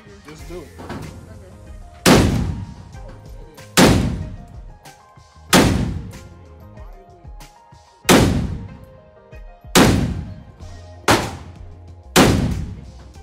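Seven loud, booming gunshots from a Monarch 7.62x39 rifle, fired one at a time with gaps of one to two seconds and each trailing into a rumbling echo, with little else between them.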